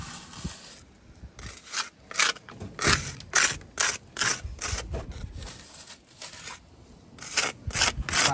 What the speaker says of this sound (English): I can just go back over it with the trowel and cut that mortar right back to the wall